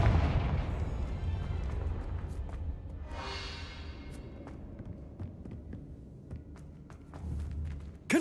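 A Confringo blasting spell fires in the Hogwarts Legacy video game, a sharp burst near the start, then low rumbling booms and a hissing flare midway, with faint footsteps and a closing thump, no voices.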